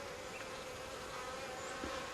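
Honeybees from a beekeeper's apiary of about 500 hives in the Seoul capital region hum in a dense, steady swarm, the buzzing continuous and fairly close with no voices.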